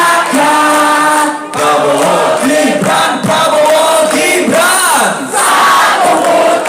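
A large crowd at an Indonesian political rally for Prabowo-Gibran roars and cheers loudly and continuously, with shouting voices swelling and dipping in waves.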